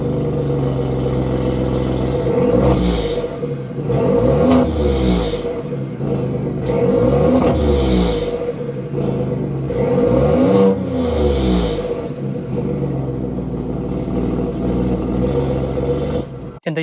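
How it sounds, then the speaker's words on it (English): A 2023 Ford F-150 Tremor with a 3.5-liter twin-turbo EcoBoost V6 revs repeatedly, its exhaust rising and falling in several loud, close surges over a steady idle rumble. "start it up so you can hear that exhaust note."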